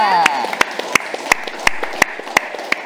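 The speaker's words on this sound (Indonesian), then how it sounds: "Tepuk tangan buat kita semua ya." An audience at a community forum in Kulon Progo claps in unison, giving a steady run of sharp, evenly spaced claps about three per second over a faint background wash.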